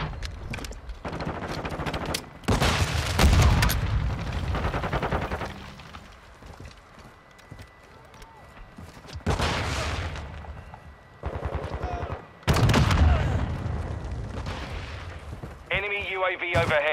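Heavy gunfire and explosions from the video game Call of Duty: Modern Warfare II come in loud bursts of automatic fire with short quieter gaps, and in-game voices speak between the volleys.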